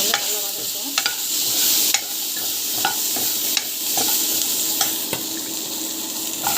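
Vegetables sautéing with asafoetida in a pan, heard as a steady close sizzle with scattered scraping stirs and clicks from a utensil against the pan.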